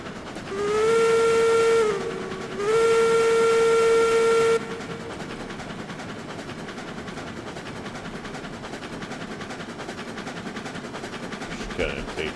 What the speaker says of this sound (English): Just kind of taking in some of the sights and sounds of the new Loco.